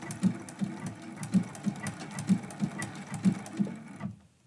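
A sewing machine stitches along the edge of candy cane quilt blocks in a steady run of rhythmic thumping stitches, close and clear, stopping near the end.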